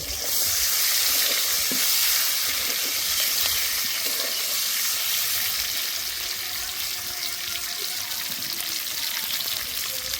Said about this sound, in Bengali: এবার ডিমগুলো দিয়ে দেব। এবার ডিমগুলো একটু নেড়ে দেব।